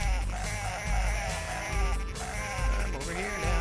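Sheep in the Dreamcast game Cool Herders bleat repeatedly over busy game music and effects, several wavering cries close together.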